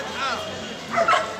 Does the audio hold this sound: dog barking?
yes